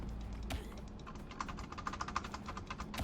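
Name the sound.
computer keyboard typing while gaming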